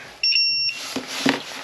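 A continuity tester gives a short, high electronic beep as wires are connected, followed by light handling clicks and rustle nearby.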